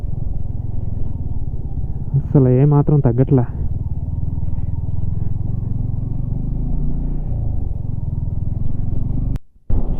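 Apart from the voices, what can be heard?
motorcycle riding on off-road track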